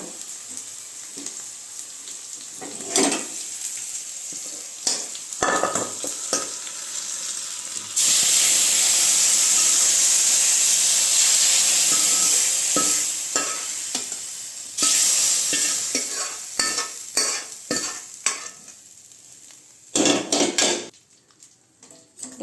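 Sliced onions sauté in a pan for dal sambar, with repeated close scrapes and clinks of a spoon stirring. A loud, steady sizzle swells for several seconds in the middle, then the stirring tapers off.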